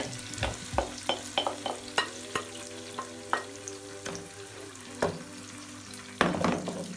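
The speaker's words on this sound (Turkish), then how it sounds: "Şimdi kızartmaya vereceğim." Food sizzling in a hot pan, with repeated clinks and scrapes of a utensil stirring and a louder burst of frying near the end.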